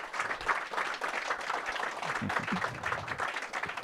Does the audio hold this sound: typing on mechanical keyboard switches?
no